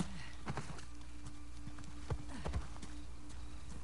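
Horse hooves clip-clop in Uncharted: The Lost Legacy, a steady run of hoof strikes with a few heavier thuds, heard alone at moderate level over a low steady game background.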